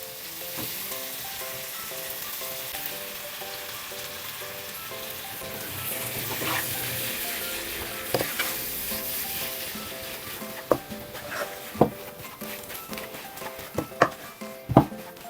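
Mashed boiled potatoes stirred into hot oil in a pan for aloo samosa filling, a steady sizzle with scraping spoon strokes that sharpen into distinct knocks toward the end; no talking.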